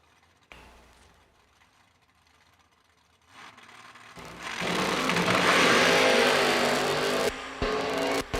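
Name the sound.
drag racing car launching with a wheel stand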